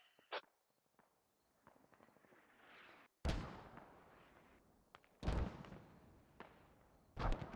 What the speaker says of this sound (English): Let's go see who these mortars land.